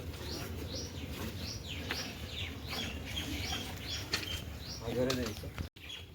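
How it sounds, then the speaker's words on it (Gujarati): Repeated bird chirps and calls ring out over a steady outdoor background, with a brief flutter of activity near the end. "કેટલા પક્ષીઓનો અવાજ"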